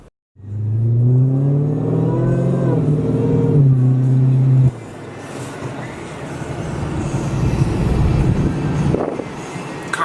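2018 Dodge Demon on a ride-along, heard from inside as a loud engine roar rising through gears, then a rougher, broadband rush of driving noise that swells toward the end.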